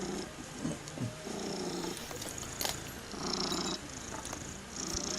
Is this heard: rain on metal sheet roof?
no